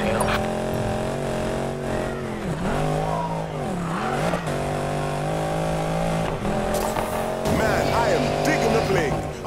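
A stolen car driven in Need for Speed Payback, its engine droning steadily with pitch swells from revving and gear changes, loud and continuous, partly under game voices and music.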